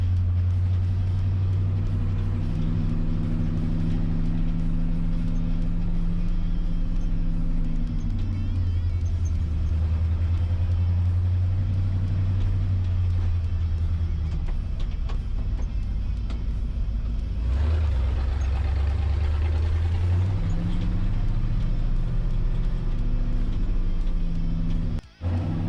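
International C1600 truck with a 345 V8 engine running steadily, a loud continuous low rumble with shifting pitch as it drives, close and alone with no talk until a brief cut at the very end.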